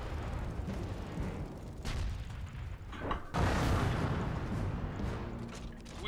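Mortar rounds fire and land in the strategy game Iron Harvest, giving heavy booming blasts over a dense rumbling battle backdrop, with a couple of sharper explosions standing out.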